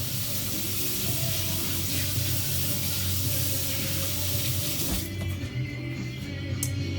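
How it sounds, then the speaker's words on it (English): Tap water running steadily over hands at a sink, a loud continuous splashing rush that cuts off abruptly near the end, leaving quiet room tone and a faint click. "I'm going to rinse my hands, or rather wash them off real quick"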